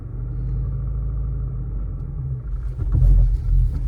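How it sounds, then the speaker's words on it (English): A manual car pulls away in first gear as the clutch engages, a steady close low engine rumble that swells slightly with added throttle near the end. "You want to slowly let the clutch out and just give it a little bit of gas"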